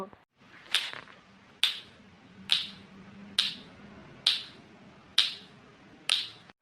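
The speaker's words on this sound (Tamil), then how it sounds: "ஒரு பிள்ளை சொடக்க போட்டு கூப்பிடுது" Seven sharp finger snaps ring out one after another at an even, unhurried pace, crisp and close against a quiet background.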